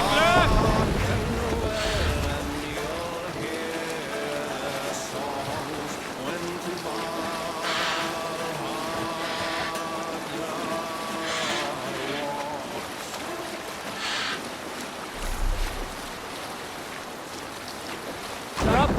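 A sailing ship at sea in Assassin's Creed Valhalla, with steady waves and wind under a layered chanting or singing crew, punctuated by sharp splashes and creaks, moderately loud throughout.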